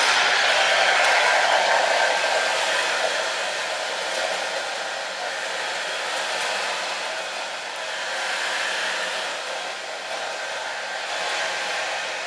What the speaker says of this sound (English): Just a regular blow dryer you have at home.